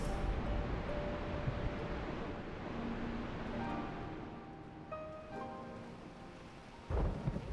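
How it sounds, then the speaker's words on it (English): Thunder rumbles and cracks in a stormy Final Fantasy XIV scene, a long low roll fading under steady rain-like hiss, then a sharp new crash near the end, with faint game music tones in between. "the sound of the thunder cracking"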